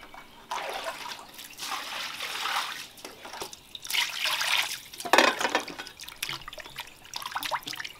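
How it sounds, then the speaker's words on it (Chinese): Tap water runs over raw chicken legs being washed in a kitchen sink, an uneven splashing trickle that swells and fades in several bursts, with no talk. "先把那个鸡腿给它洗一下"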